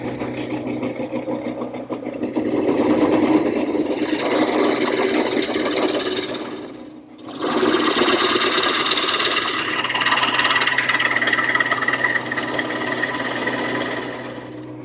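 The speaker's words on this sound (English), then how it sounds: "I'm using the 1/2-inch bowl gouge to remove the material" A half-inch bowl gouge cuts into a spinning wooden bowl on a lathe, giving a continuous loud buzzing, chattering drone over the hum of the running machine, with a brief dip midway.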